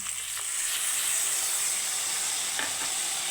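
Mustard paste hits fried taro stolons in a hot pan, giving a loud, steady sizzle and hiss with a few faint stirring scrapes, close up and with no talking.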